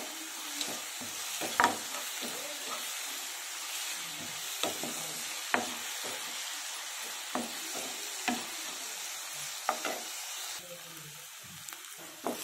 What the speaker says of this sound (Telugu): ఇప్పుడు కొంచెం అల్లం వెల్లుల్లి పేస్ట్, 1 స్పూన్ అల్లం వెల్లుల్లి పేస్ట్. ఇవి బాగా ఫ్రై అవ్వాలి